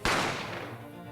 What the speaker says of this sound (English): You heard the gunshot, you mean?